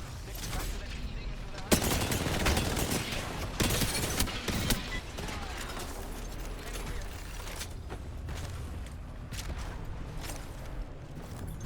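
Apex Legends gunfire in a busy match, dense rapid shots and mechanical clatter packed together, with a sharp crack early on, under talk from players.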